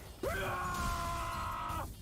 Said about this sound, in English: Gotta love that Fire Fist scream